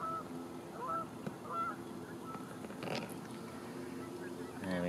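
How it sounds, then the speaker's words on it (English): Geese by a lake honk in scattered calls, some fairly near and some farther off, over a quiet outdoor background with faint talk. "Alien geese being as rowdy and loud as ever."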